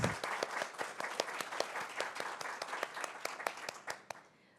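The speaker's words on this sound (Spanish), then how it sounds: "Quiero pedirles que le demos un fuerte aplauso, por favor." Steady applause from an audience at a book presentation at the Guadalajara International Book Fair, dense overlapping claps with a few sharper hand slaps standing out, tapering off at the end.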